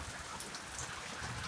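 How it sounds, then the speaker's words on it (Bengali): Steady rain falls outdoors with light sunshine breaking through, a dense, even hiss of drops hitting surfaces throughout, with no clear thunderclap. "এই দেখো মেঘ ডেকে বৃষ্টি হচ্ছে"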